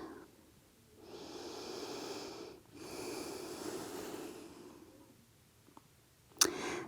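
Deep, slow breathing held through a yoga stretch: two long, airy breaths, each lasting a second or more with a short pause between, close and quiet, followed by a brief click at the end.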